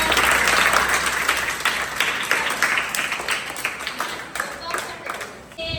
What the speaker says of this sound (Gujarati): ચાલો દિયાંશી માટે તાળી પાડી દો